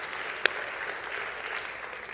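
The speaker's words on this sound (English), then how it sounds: "And I guess you can clap for that." Church congregation clapping, a short burst of moderately quiet applause with one sharper clap standing out near the start.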